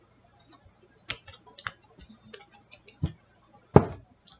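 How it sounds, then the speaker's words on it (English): A deck of tarot cards is cut by hand. Sparse, quiet taps and soft clicks of the cards sound close by in an otherwise hushed room. "Let's cut the deck for Libra."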